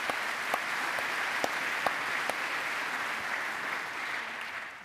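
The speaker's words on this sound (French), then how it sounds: "On peut l'applaudir parce que tout ça, c'est grâce à lui." Steady applause from a sizable crowd, with a few sharper individual claps standing out, at moderate distance and without speech.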